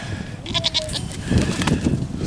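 Young goats on a farm bleating near a fence, several short nasal calls close by over rustling and handling noise.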